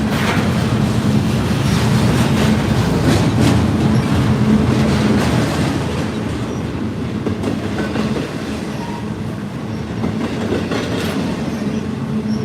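A heavy train rumbles past over jointed rail in Lilly, Pennsylvania, with a steady low roar and rhythmic clacking of wheels over rail joints, loud at first and easing slightly later.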